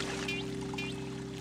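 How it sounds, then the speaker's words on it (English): A repaired fountain in a Busytown Mysteries cartoon: a steady, moderately loud rush of pouring water over a constant low humming drone, unbroken for the whole moment. "Mr. Root, the fountain's working again."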